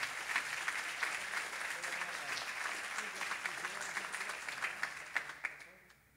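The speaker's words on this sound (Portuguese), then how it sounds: "Eu queria que você louvasse a Deus com as palmas pela vida do nosso pastor." A church congregation claps in praise during a service, a dense wash of hands with occasional louder individual claps near the end before it thins out and fades away.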